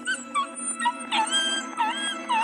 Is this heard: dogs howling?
yes